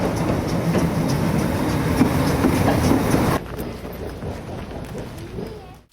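A steam train runs along the Oybin railway in Saxony, its wheels clattering over rail joints in a steady, fairly close rumble for a few seconds before the sound drops sharply and fades, with birds faintly audible.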